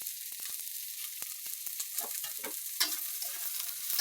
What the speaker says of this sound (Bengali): এবার প্রত্যেকটি উপকরণ ভালো করে মিশিয়ে নেবো এবং ভালো করে ভেজে নেব।